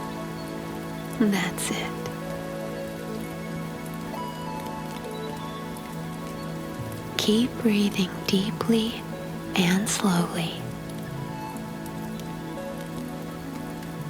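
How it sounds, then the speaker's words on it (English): Steady rain hisses evenly and continuously throughout, with a soft voice talking gently over it in a few short passages. "listening to the mesmerizing moshi rain"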